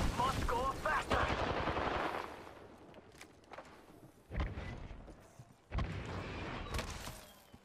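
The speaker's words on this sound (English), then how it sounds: "They're shooting at me." Gunfire in the Apex Legends shooter, with dense bursts of rapid shots at the start and several more loud volleys later, with game voice chatter in between.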